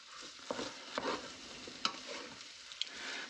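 Stir fry cooks in an ordinary frying pan instead of a wok, a constant broad sizzle broken by a few crisp utensil scrapes and taps, close and without talk.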